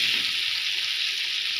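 Onions fry in a pan, softening in oil, a dense even sizzle heard up close throughout with a short clack at the very end.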